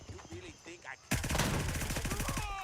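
Rapid automatic rifle fire from the tactical shooter game Gray Zone Warfare bursts in suddenly and keeps hammering in a fast, loud, even rhythm, after a brief stretch of quieter game ambience.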